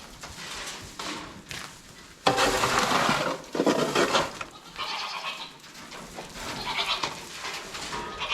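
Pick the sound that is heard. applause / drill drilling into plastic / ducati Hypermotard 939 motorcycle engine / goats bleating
goats bleating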